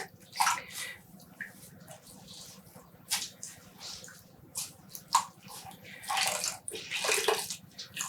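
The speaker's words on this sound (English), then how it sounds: "the camera cut me off early while rinsing the second skein" Running water rinses a skein of heavily dyed yarn, with irregular splashing and squishing bursts over a low steady hum, fairly close.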